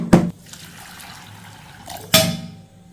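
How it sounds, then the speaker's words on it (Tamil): Water poured from a cup onto sprouted fenugreek seeds in a kitchen bowl, heard as two short splashy bursts with a quieter trickle between them, close and without talk. "இதை 3/4 கப்பு தண்ணி ஊற்றிக்கிறோம்."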